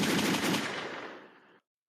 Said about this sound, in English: Gunshots for this.